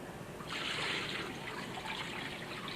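Water sloshes and trickles through rice grains being rinsed to wash off cloudy starch, a steady close wet swishing that builds after a quiet start and continues without talk.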